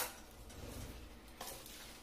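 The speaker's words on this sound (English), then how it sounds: "You want to hear that nice sizzle. You know you're going to get a nice crust when you hear that sizzle." Seasoned pork chops with a Parmesan crust searing in a hot cast iron pan, giving a steady close sizzle with light clinks of tongs against the pan and no talking.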